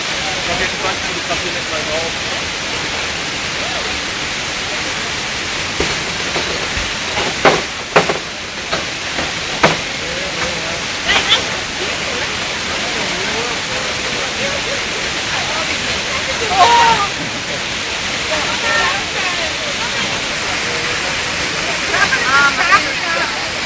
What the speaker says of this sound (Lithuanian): eilinis krioklys